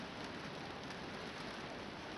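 Steady rain pours down outside a hay barn where cats shelter, a dense even hiss with no voices over it throughout.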